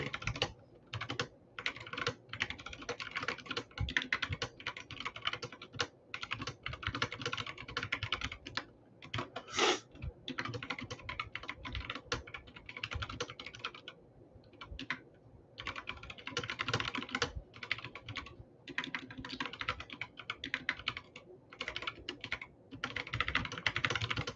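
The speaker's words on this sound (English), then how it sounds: "Can you guys hear my keyboard?" Rapid, uneven clatter of keys on a computer keyboard, continuous bursts with brief pauses, close and fairly quiet.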